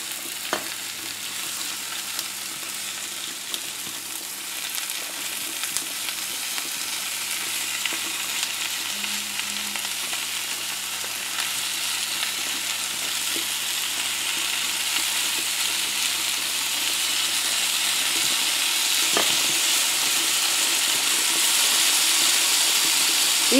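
Bacon, onion and garlic fry in a little oil in a pan with a steady, close sizzle that grows slightly louder over time. A few stirring knocks break in, and no one speaks.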